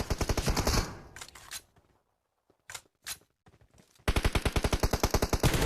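Gunfire in the Battlegrounds Mobile India video game: rapid automatic bursts open and close the stretch, with a few isolated shots in the quieter middle.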